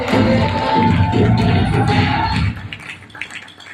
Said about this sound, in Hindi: सबसे पहले जोरदार तालियां हो जानी चाहिए रिस्पेक्टेड हितेश सर की